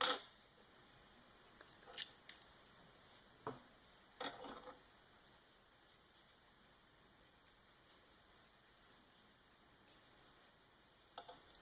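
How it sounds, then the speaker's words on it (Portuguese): Scissors snip through crochet yarn on a small crocheted Peppa Pig appliqué, giving a few sharp, isolated cuts and clicks spaced apart in a quiet room with no voice. "Agora eu vou cortar o fio."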